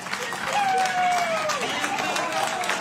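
Crowd cheering at NASA mission control after the DART spacecraft's asteroid impact, a steady roar of many voices with shouts and clapping, loud and close throughout.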